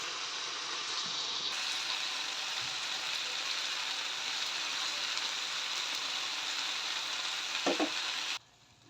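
Spring onions frying in a pan of cooked dish, a dense continuous sizzle that swells after the first second and holds loud and close, a few light knocks near the end before it cuts off.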